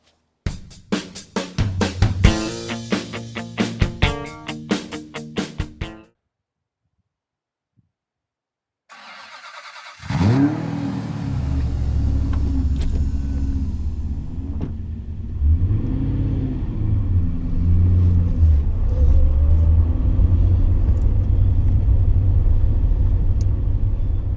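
A 1990 Aston Martin Virage starts and drives away after a stretch of music and a short silence: a sharp start-up, then a deep, loud engine rumble that swells and settles as it revs and pulls through gears.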